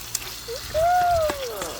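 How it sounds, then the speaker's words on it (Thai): Sliced pork neck with garlic sizzles and crackles in hot oil as it is stir-fried in a pan, loud and close, with a faint whistle-like tone gliding briefly over the frying. "ผัดเลยเพื่อน เดี๋ยวน้ำมันจากตัวหมูเขาจะออกมา"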